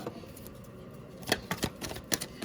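Crisp, rapid riffling bursts of tarot cards being shuffled, a few quick flurries close by, fairly quiet with short pauses between them.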